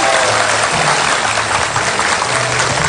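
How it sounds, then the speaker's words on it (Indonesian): A studio audience at an Indonesian television talk show claps, a dense, loud, steady wash of applause with no talk over it. "Iya, iya, tepuk tangan."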